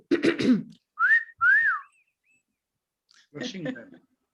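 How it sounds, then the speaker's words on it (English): Two short rising-and-falling whistles sound between a cough and some throat clearing on an online meeting call, close and clear in an otherwise quiet room. "Whistle, whistle."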